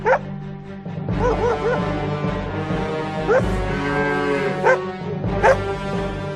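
Cattle moo and low repeatedly in a parody nature documentary about politics, the calls mixed with whining, yelping tones over a steady low background, several loud cries rising and falling close by.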